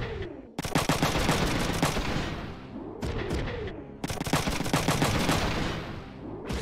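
Heavy automatic gunfire from the PlayStation strategy game Front Mission 3, loud and sustained in dense rapid bursts, broken by a short gap near the middle before the shooting resumes.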